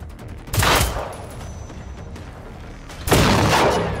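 Heavy explosions and gunfire in the video game Generation Zero, with two loud booming bursts, one near the start and one near the end, each trailing off over a steady background rumble.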